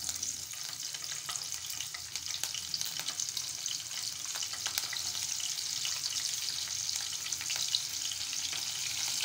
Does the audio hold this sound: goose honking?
no